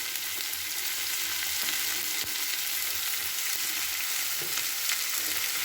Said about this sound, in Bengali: মিশিয়ে নিচ্ছি সমস্ত সবজিগুলোকে একসাথে